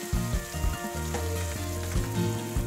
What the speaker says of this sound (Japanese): 水で溶いた生姜とニンニクを加えて炒めます。